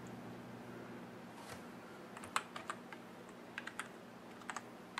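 Someone types a password on a computer keyboard while installing Mac OS X on a PC; a few faint, scattered key clicks come in small bursts over a quiet hum, with no talking.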